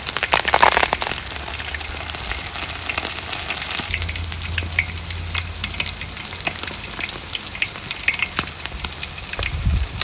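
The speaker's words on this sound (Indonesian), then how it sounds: "Alhamdulillah, ikan goreng dah siap." Fish frying Indian style in hot oil, with curry leaves added, gives a loud, steady sizzle and crackle that runs throughout, with occasional stirring scrapes and no voices.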